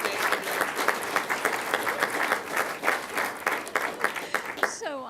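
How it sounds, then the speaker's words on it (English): An audience at a city council meeting applauds an award recipient, steady moderate clapping from a roomful of people with individual claps audible, and a voice breaks in briefly at the end. "So let's give her another round of applause."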